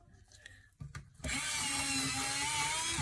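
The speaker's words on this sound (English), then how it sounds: "now I need a sharpening again" A pencil sharpener whirs continuously after a few short knocks and handling sounds, grinding a drawing pencil with a steady, close, moderately loud buzz.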